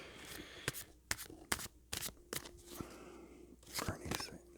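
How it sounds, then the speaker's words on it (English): Playing cards are shuffled by hand in a series of sharp riffling bursts and snaps, several clustered clicks spread unevenly with pauses between, close up and fairly loud. "I can't shuffle today"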